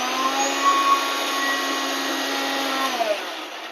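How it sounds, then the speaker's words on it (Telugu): A kitchen mixer grinder blending cooked onions into a paste for egg curry, running as one continuous, loud, high motor whine that holds steady for several seconds before slightly tapering, with no voices. "ఇప్పుడు మిక్స్ పట్టేసుకుంటున్నాను ఆనియన్స్ వేసిన తర్వాత."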